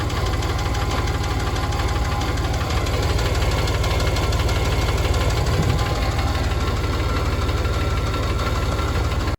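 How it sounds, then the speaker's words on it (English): Porsche 991 engine with bore scoring running on and on, a dense rapid mechanical clicking and knocking over a steady rough drone, loud and close throughout with no voices. "the bore scoring that went with that and gave us our clicking noise"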